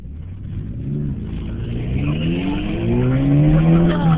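A car accelerates hard away from a traffic light, its engine note rising steadily in pitch and growing louder as the revs climb, close and continuous with no talking.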